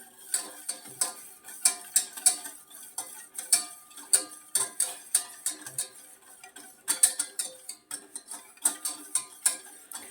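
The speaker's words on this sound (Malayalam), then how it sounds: "ഇനി നമ്മൾ കൈ എടുക്കാതെ ഇളക്കിക്കൊണ്ടിരിക്കണം" A homemade skin remedy mixture containing rum and sugar is stirred nonstop in a pan over a low flame, giving steady rhythmic scrapes and light metallic clinks that repeat through the whole stretch, close and fairly quiet.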